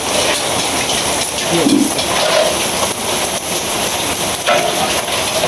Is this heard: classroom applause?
no